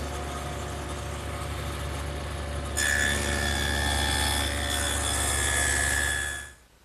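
A table saw fitted with a dado head cuts a rabbet along a wooden cabinet side panel, a steady close whine and hum with a brighter, louder cutting tone partway through before spinning down at the end.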